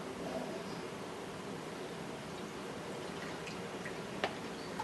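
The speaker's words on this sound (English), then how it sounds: "Pour it carefully on the rocks." Quiet, steady wet hiss with a few small drips and ticks as tap water is poured onto rocks in a homemade water filter, sizzling softly throughout.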